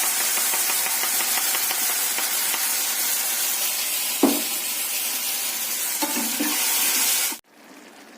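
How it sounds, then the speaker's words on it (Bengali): Butter chicken gravy with butter and added water coming to a boil in a pan, a steady close bubbling sizzle that runs alone for about seven seconds and then cuts off abruptly. "বাটার চিকেনের গ্রেভিটা এরকম কন্ডিশনে এসছে, জিনিসটা ফুটতে শুরু করেছে"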